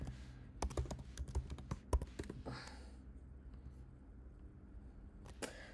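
Someone types on a computer keyboard, a quick run of sharp clicking keystrokes, close and fairly quiet, that trails off into near silence before a final couple of taps.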